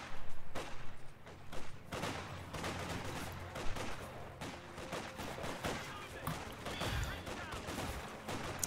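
A Vickers machine gun fires in a strategy video game during a tournament match, heard as bursts of rattling gunfire mixed with other battle shots and impacts at moderate level.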